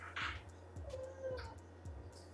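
A house cat meows repeatedly at close range in a kitchen, giving several short, fairly quiet calls in a steady rhythm with no speech.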